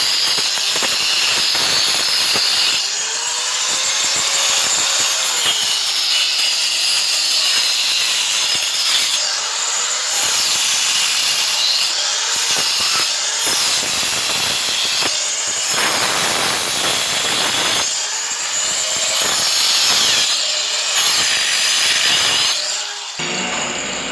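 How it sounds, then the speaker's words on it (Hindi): An angle grinder cuts a groove into a house wall for electrical piping, screaming loudly and continuously at close range, its pitch wavering slightly as the blade bites and eases. "एक बार और ग्राइंडर अंदर चलेगा, यानी कि आपको 2 बार चलाना ही पड़ेगा।"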